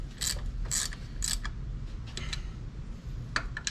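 Ratchet clicking in short bursts while snugging the distributor hold-down on a 1992 Nissan Sentra 1.6, a few quick close ratcheting strokes separated by pauses, with steady background noise.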